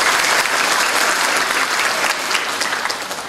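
Loud, sustained audience applause at a Riau provincial government event for university education aid and scholarships, a dense roar of many hands clapping that eases slightly toward the end, with no talk over it.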